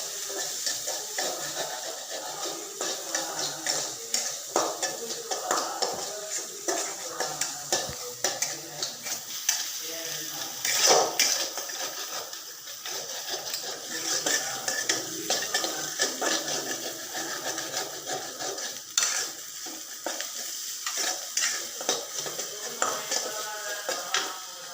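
Diced onion sauteing in a pan, a steady close sizzle with frequent scraping stir strokes and occasional utensil clinks throughout, no voices.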